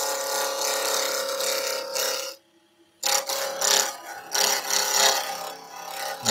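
Gouge cutting a laburnum wood pen blank on a spinning lathe, making a continuous rough, hissing scrape that breaks off briefly to silence and then resumes with an uneven texture.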